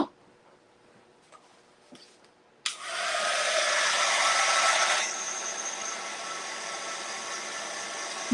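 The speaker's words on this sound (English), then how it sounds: "Plug in my drying tool." A heat drying tool switches on with a sudden whoosh and then blows a steady, loud rushing stream of air over a canvas painting, dropping slightly in intensity partway through after a few quiet clicks beforehand.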